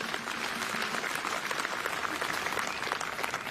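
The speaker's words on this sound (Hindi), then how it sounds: "4 राज्यों के लिए जोरदार ताली मारो जरा सारे।" A large outdoor crowd claps loudly and continuously at a political rally and road show in Shimla, a dense, steady roar of hands throughout.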